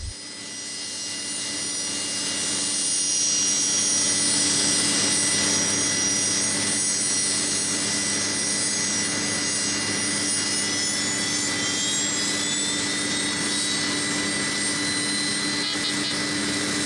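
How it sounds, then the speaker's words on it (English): An aircraft, flight PX 5120, slowly taxies out onto the tarmac during a fire-service hose washdown. It makes a loud, steady jet-engine roar with a high whine that rises in pitch partway through, continuous and without talk. "As PX 5120 slowly taxied out onto the tarmac"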